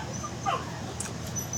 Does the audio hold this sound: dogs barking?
yes